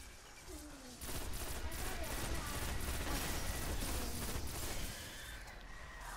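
Sustained rapid gunfire from a weapon in the Destiny video game, dense and continuous, with an automatic burst that swells after the first second and holds steady, loud and close. No speech.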